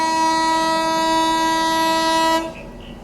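A loud, sustained horn blast from the Mandovi Express passenger train on the Mumbai to Goa route holds steady at close range, then cuts off abruptly, leaving a low background hum.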